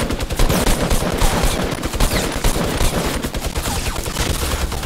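Rapid Fortnite gunfire fills the whole stretch, dense overlapping bursts of shots firing in quick succession, loud and continuous with no pauses and no talking.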